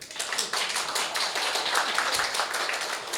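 A live audience claps in applause for a speaker introduced on stage at an inspirational seminar event, with dense, steady clapping from many hands throughout, fairly loud and even, with no voices over it.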